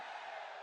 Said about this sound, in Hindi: सभी लोग मेरे साथ जयघोष करेंगे,